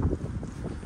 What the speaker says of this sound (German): Junge, der Wind geht mir so auf den Sack